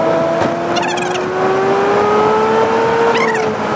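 A car engine pulls steadily uphill on a mountain road to Uludağ, its drone holding loud and close with a slowly rising pitch, with faint squeaks over the top.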